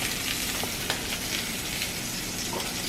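Skin-on salmon fries in oil in a pan, a constant bright sizzle with scattered pops and crackles, close and steady with no voices.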